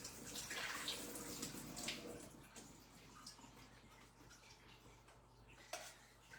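Liquid drains from a can of sliced black olives into a sink, a quiet steady trickle and splash with faint clinks, heard indoors at low level.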